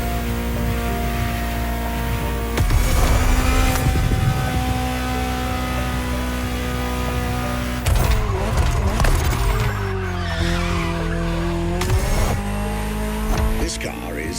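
A Ferrari 288 GTO engine drones steadily in The Crew Motorfest, rising in bursts of revving with a brief tire squeal, loud and continuous throughout while a voice narrates over it.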